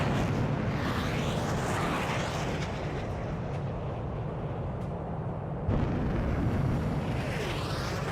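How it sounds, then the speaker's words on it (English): A dense, rumbling roar of explosion noise in Ace Combat 7 fills the clip continuously, loud and broadband, with a sharp jolt partway through. "An explosion inside!"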